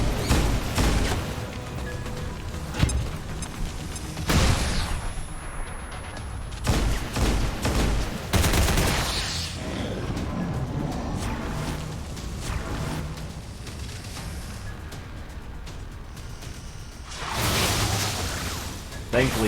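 A flashbang grenade detonates in the turn-based tactics game XCOM 2, giving a sharp burst amid loud whooshes, impacts and crashing combat noise across the scene, with game voices speaking at times.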